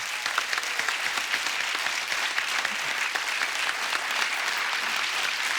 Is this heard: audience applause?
yes